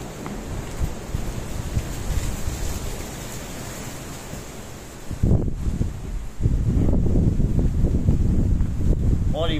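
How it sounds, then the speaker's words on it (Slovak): Strong wind at a mountain settlement, broad rushing noise buffeting close to the microphone in gusts, growing louder and rougher in the second half. "Pofúkuje silný vietor"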